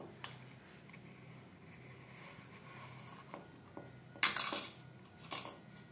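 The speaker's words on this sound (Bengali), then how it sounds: "একটা চামচের সাহায্যে এইভাবে প্রথমে সাইডগুলো ছাড়িয়ে নেব" A metal spoon working around the edges of cooled idli in a mould, producing quiet scraping and a few brighter clinks and taps near the end, close and fairly faint.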